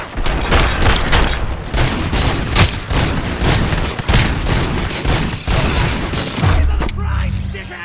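Loud, dense volley of gunfire in RoboCop: Rogue City, with rapid overlapping shots and booms rattling continuously for several seconds, mixed with mechanical clanks and some voices.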